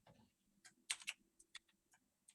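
Typing on a computer keyboard: a few quiet, close, irregular keystroke clicks in short clusters, with a faint hum underneath and no talking.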